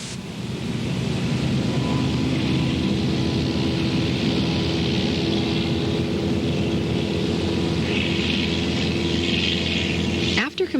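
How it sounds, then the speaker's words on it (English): A light airplane's engine drones steadily and loudly throughout as it taxis to the runway and takes off, with rising broadband roar and a brief disturbance near the end. "we taxi to the designated runway, take off, and become airborne"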